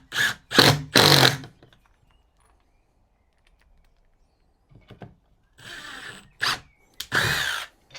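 A power drill driving screws into whisky barrel wood being made into a beehive: three quick whirring bursts close up, a long pause, then several more short bursts.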